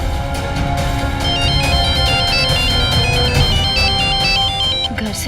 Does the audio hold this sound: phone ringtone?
yes